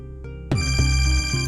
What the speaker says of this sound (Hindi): ये मुसलसल तुम्हारा फोन क्यों बज रहा है?